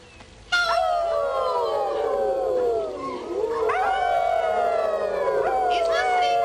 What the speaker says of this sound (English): hopefully get just a real full-blown on deep howl that might be reminiscent of wild wolves